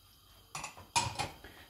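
A spoon clinks against a bowl while a dressing of mayonnaise, yogurt, sugar, salt, pepper and vinegar is stirred for a broccoli salad, giving a few short, soft scraping taps close by.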